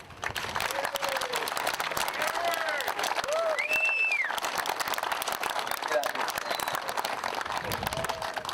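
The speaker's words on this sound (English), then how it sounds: "let's give an extra round of applause to all of our sponsors" Applause for sponsors at a construction event honoring veterans, dense steady clapping from a crowd over several seconds, with a few whoops and faint tonal sounds above it.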